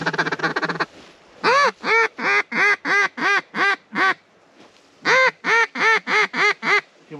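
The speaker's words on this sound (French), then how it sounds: "Ouais, il y a du canard là." Ducks quack on a lake at Lac Saint-Jean during a migratory bird hunt: one short burst, then two loud, close runs of rhythmic, evenly spaced quacks with a brief pause between them.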